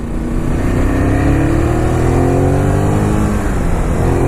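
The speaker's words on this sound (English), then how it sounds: "this is a Ducati Super Sport without any fairing. Great sounding bike." A Ducati motorcycle engine roars steadily up through the revs, loud and near, with a deep continuous rumble throughout.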